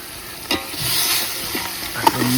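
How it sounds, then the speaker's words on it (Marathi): Mutton and fried onions stirred with a ladle in a pot, the ladle scraping and knocking in a few sharp strokes over a steady soft sizzle, close up with no voices. "असं मिक्स करायचं चाललंय."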